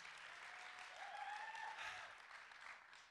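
Scattered audience clapping at a wellness and systems-change panel event, faint and distant, lasting a few seconds before tapering off.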